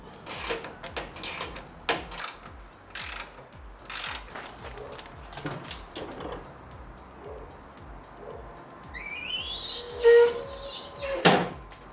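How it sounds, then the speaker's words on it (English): Metal clicks and ratcheting taps from a wrench tightening a bolt while assembling a Harbor Freight five-drawer mechanics cart, irregular and close, with a sharper metallic scrape near the end. "how I tighten it is that with a wrench, and the wrench holds down the other bolt"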